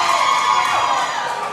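Arena crowd at a wrestling match cheering on wrestler Chris Carter against Shimbashi, a loud sustained wash of shouts and cheers with a rising whoop in the middle.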